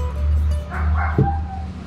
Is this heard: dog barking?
yes